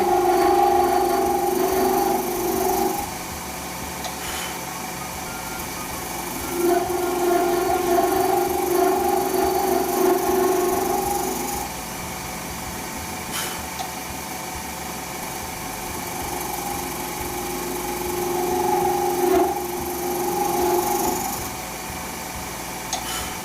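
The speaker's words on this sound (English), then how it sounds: "We're going to re-sand this one anyway." A woodturning lathe hums steadily as a hybrid resin shaving brush is re-sanded on it, with rising and falling rasping passes of sandpaper in long strokes and pauses, no talking.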